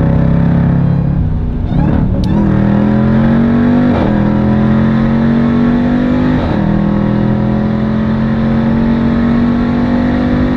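A Jeep Grand Cherokee Trackhawk's 710 PS engine revs freely and loudly up close, the tone climbing steadily with brief dips at gear changes, sustained and alone throughout.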